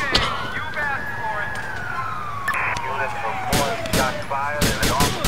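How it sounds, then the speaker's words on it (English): Rapid gunfire crackles in bursts through a police shootout in the video game GTA IV, sharp cracks landing near and loud over a wailing siren that sweeps steadily downward behind them. "Why are you shooting at him?"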